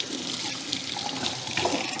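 Tap water pours steadily and close over a sticky, tacky plastic item being rinsed, a continuous splashing hiss with no pauses.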